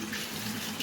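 Water runs steadily from a tap into a container while it fills, a continuous close rushing flow with no voices, on a very cold day.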